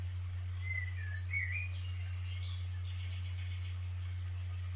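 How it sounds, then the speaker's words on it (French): Faint bird chirps and short song phrases over a steady low hum, scattered and distant-sounding. "Écoutez les bruits, le chant des oiseaux."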